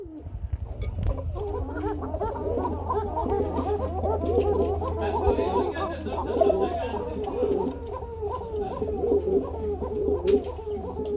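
A male and female pigeon pair cooing together in a rapid, continuous series of rolling calls close by, with a low steady hum underneath.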